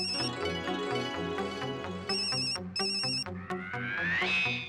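A melodic electronic phone ringtone plays loud and close, repeating a bright chiming pattern with a rising synth sweep at the end.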